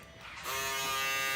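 A foil shaver buzzes steadily as it trims a client's hair while texturing a Eurohawk cut, starting softer and then jumping to a loud, continuous close-up hum with a strong motor whine.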